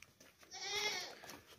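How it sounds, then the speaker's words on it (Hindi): A healthy, fat nanny goat with a kid bleats once in a drawn-out, wavering cry, fairly close and alone against a quiet background. "बहुत ही प्यारी सी खूबसूरत सी बकरी है, बच्चे वाली बकरी है"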